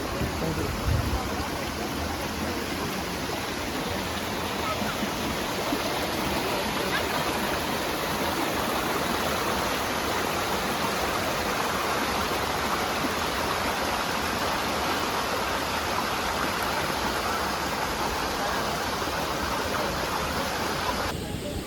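Savri Waterfall in Netravali Wildlife Sanctuary, Goa, pours with a steady, dense broadband roar of falling water, loud and unbroken throughout with no talk over it.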